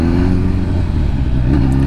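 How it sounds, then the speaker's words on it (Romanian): Kawasaki Ninja ZX10R sport motorcycle with an original Akrapovic exhaust, a loud close engine note rumbling and revving steadily, with brief crackles of backfire, no talk. "Și cât de frumos se aud rateurile alea. E un Akrapovic original"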